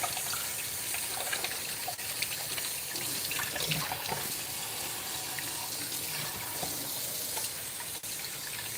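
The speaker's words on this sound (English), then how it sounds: "I'm gonna wash my hands real quick." Hands are washed under a running kitchen tap, a steady, close gush of water splashing into the sink with no pauses.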